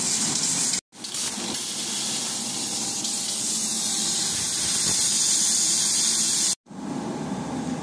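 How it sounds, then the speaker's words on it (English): A plasma cutter chops out a rotten driver's floor on a Land Rover Defender, giving a loud, continuous harsh hiss that cuts off briefly twice before resuming. "He's busy with a plasma cutter and he's chopping out that floor."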